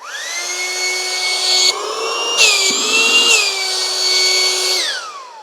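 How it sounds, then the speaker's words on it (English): A 12-volt air mattress blower powered by a Jackery Explorer 300 whines steadily and loudly up close, its pitch shifting slightly a few times before it winds down at the end, with no talking. "Will it use the blower for your air mattress? Well, this is the 12-volt one."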